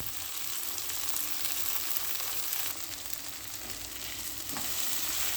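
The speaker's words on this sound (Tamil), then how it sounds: "நல்லா எண்ணெய் ஊற்றி வணக்கணும்." Ingredients for mango rice sautéing in oil, a steady, moderately quiet hiss and sizzle with faint stirring scrapes, close and continuous without speech.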